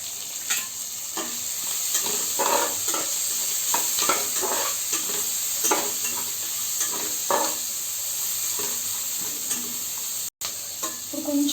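Cashews fry in hot oil in a pan with salt added while a spoon stirs them: a continuous close sizzle broken by repeated scraping strokes, with no voices.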